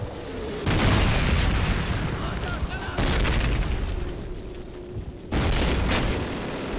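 Several heavy booming blasts from a grenade in the shooter game Call of Duty, three loud explosions spaced a couple of seconds apart, each followed by a rumbling decay, with a voice talking over them.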